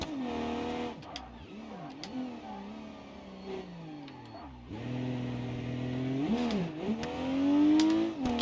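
Rally car engine in the BeamNG driving game revs hard through the gears, its pitch sweeping up and dropping at shifts, loud and close, with a brief dip midway before climbing again to a strained high-rev peak.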